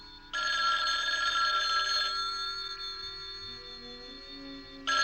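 A telephone bell rings loudly in a steady electric trill for several seconds, pauses briefly, then starts again at the end.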